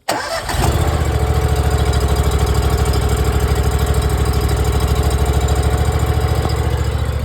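Small engine on a brick-cleaning acid sprayer catching and running after the choke is pulled: a quick start, then a loud, steady, close chugging idle that continues throughout.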